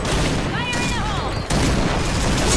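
Grenade blast in the Point Blank online shooter, a dense burst of explosive noise among gunfire, followed by a second sharp boom partway through, loud and close, with brief whistling tones in between.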